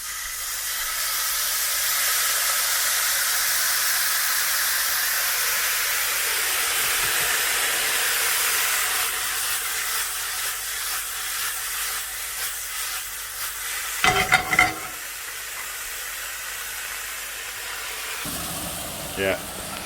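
Glaze hits a hot pan and gives a steady, loud steaming hiss that fades slowly, followed by a few clatters of utensils near the end. Talk is faint underneath.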